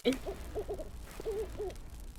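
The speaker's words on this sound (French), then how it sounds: "Pourquoi j'entends un hibou?" Soft owl hoots from a Roblox video game in a forest, in short groups of two or three, low and mellow, repeating at a gentle pace over a faint background hum.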